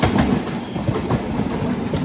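A train passes close by with a steady rumbling roar and rhythmic clickety-clack of wheels over rail joints, continuous and loud throughout, heard from a passenger train on the Ernakulam to Guruvayur line.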